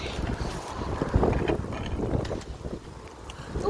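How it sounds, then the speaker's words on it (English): Strong gusty wind blows outdoors as a tornado approaches St. Louis, a rough rumbling roar buffeting the microphone throughout with irregular surges and no voices. "I think that the winds are kind of picking up here"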